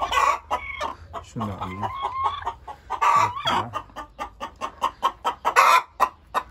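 A backyard hen cackles loudly after laying an egg, a rapid series of sharp repeated squawks with short talk between bursts.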